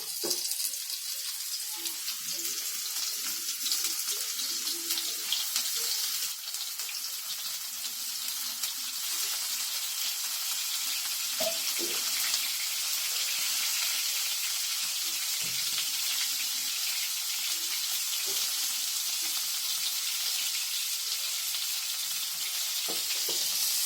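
Flour-coated crab pieces frying two at a time in oil on a griddle, a steady soft sizzle with faint crackles running throughout, close and continuous with no talk.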